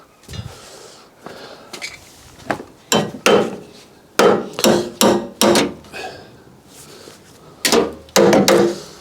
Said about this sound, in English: Let's just grab the hammer just to knock it down a little bit.